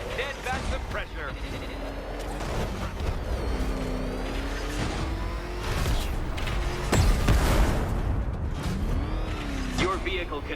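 The Batmobile in Batman Arkham Knight drives under boosted pressure, its engine droning and rising in pitch with loud rumbles and a booming hit, while a character voice talks over the action.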